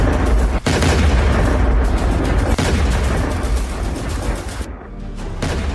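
Explosions from US-Israeli strikes on an Iranian military base in Bushehr, heard as loud, continuous rumbling booms and crackling blasts filling the whole stretch, with sharp distant-sounding reports standing out.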